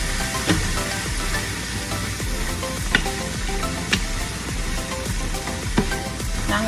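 Turkey meat hitting a hot pan: a loud, steady sizzle and crackle with a few sharp clacks of utensil against pan, close by and without speech.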